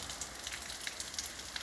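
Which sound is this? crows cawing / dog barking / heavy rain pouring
heavy rain pouring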